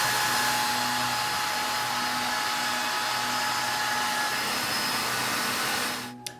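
A hair dryer blows on acrylic lacquer paint on a desert-style model base, a steady close whooshing hum that holds for about six seconds before it clicks off.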